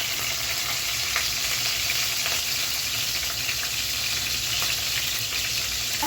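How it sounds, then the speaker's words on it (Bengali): Onion and green chillies fry in oil in a frying pan, a loud unbroken hiss of sizzling heard close by, with occasional light stirring sounds beneath it. "এখন দিয়ে দিচ্ছি পেঁয়াজ এবং কাঁচামরিচ।"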